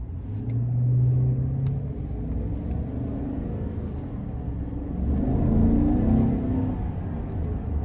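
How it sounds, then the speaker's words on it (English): A 2020 GMC Sierra 1500 Denali pickup with a 6.2 liter V8 and four-wheel drive accelerates, a deep rumbling engine drone heard from inside the cab, rising in pitch and swelling twice as gears change. "this engine is just powerful"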